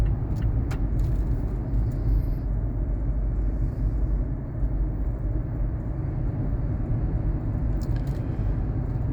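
Car driving on a road near Route 905, a steady low rumble of engine and tire noise from inside the cabin with a few faint clicks, continuous and even throughout, no talk.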